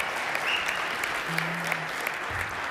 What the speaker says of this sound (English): how about a round of applause, too, for Royster Productions again, folks